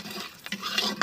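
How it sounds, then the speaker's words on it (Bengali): Whole garam masala (cinnamon, cloves) stirred through hot oil in a pan for a potato and pointed gourd curry. Brief scraping stirs sound up close over a soft sizzle, with a couple of sharper utensil scrapes. "এবার আমি তেলটা একটু নেড়ে নেব"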